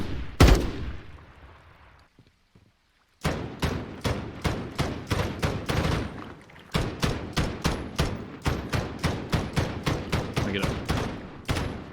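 Call of Duty video game gunfire: one sharp shot and fading tail, a short near-silent gap, then a rapid run of loud, evenly spaced shots with a brief pause midway before the volley resumes.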